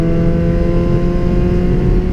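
A car on an Argentine track day holds a loud, close, steady engine drone with a strong even hum and little rise or fall across the moment.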